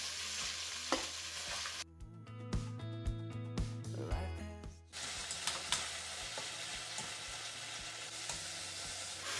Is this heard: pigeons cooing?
no